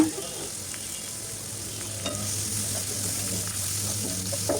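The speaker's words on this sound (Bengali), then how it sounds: "এখন এই তেলের মধ্যে খুব ভালোভাবে নেড়ে চেড়ে ভেজে নিচ্ছি" Steady sizzling of shrimp frying in hot oil, with light scraping and stirring sounds throughout, close and fairly quiet.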